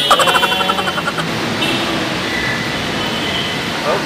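An MRT3 metro train in Manila rumbles along with a steady, loud mechanical roar, broken early by rhythmic clacking that fades into a continuous drone with faint high whines.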